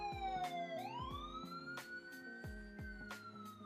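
Police sirens wail in the background with rising and falling tones, mixed with rhythmic low thumps and tonal beeps, with no voice over them.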